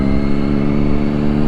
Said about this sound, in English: this is a lovely sounding exhaust